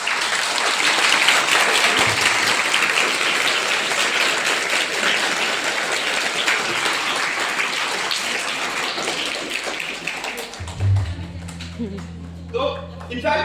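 Audience applause at an Independence Day speech, dense steady clapping filling most of the stretch, loud and close, then breaking off near the end into scattered sounds and low rumble.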